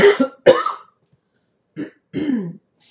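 Two harsh coughs close together, a short pause, then a throaty clearing of the throat, near and loud with no talking.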